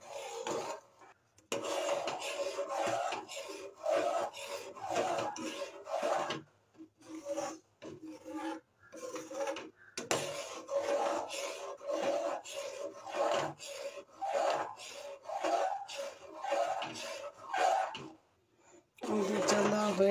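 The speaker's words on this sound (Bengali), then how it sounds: "দুধটা নাড়তে হবে," Milk is stirred in a pot while being thickened, giving a soft scraping rasp that comes in uneven bursts with short pauses between strokes, close and fairly quiet.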